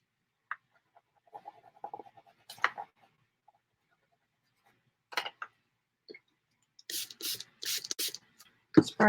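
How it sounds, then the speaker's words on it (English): Water is spritzed from a spray bottle onto a collage background in an art studio: several quick hissing bursts in close succession near the end, after soft taps and scattered handling noises in a quiet room. "Spray it down again."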